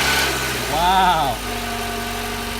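Toyota car engine idling after a loose battery terminal was replaced, a steady mid-pitched hum running throughout while a man exclaims once over it.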